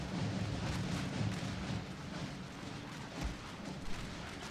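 Massed musket volleys crackle and rumble across a Total War battlefield between Mexican and French armies, a dense continuous wash of distant gunfire with a few heavier booms standing out.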